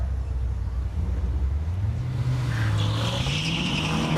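A first-generation stick-shift Cadillac CTS-V launches down a dragstrip, its engine note climbing steadily in pitch as it pulls away, loud and close, with tire noise at the start.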